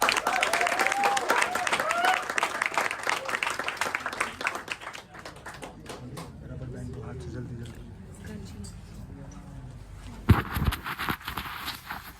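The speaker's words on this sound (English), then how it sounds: "So please give a round of applause" An audience bursts into loud applause and cheering after a performance is introduced, the clapping strong at first and then thinning out, followed by quieter talk and a sharp knock near the end.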